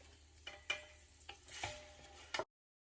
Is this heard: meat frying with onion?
yes